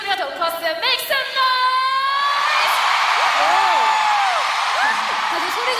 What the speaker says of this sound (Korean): 다들 소리 지르고 싶었구나.